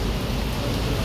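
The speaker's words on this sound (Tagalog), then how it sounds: "Kasi ang lakas ng ulan." Heavy rain falling in a constant close rush of noise, loud and unbroken for the brief moment, with nobody talking.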